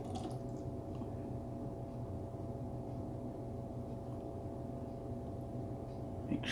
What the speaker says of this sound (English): Just want to pour it very slowly.